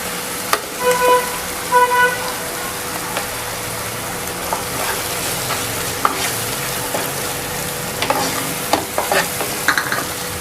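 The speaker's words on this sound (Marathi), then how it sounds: "ह्याला थोडंसं मी चांगलं थोडंसं फ्राय करून घेते" Onion and coconut masala paste frying in a pan for chicken gravy, a loud continuous sizzle with repeated clattering stirs of a spoon, and faint car horns honking in the background.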